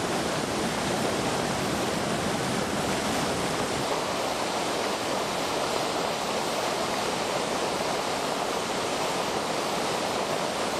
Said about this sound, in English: Countless Varicorhinus altacorpus swimming and jumping upstream in the rushing water.